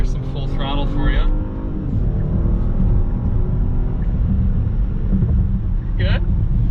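A 2021 Genesis GV80 with a 3.5 turbo engine pulls at full throttle, a loud steady low engine roar heard from inside the cabin, with brief voices near the start and end.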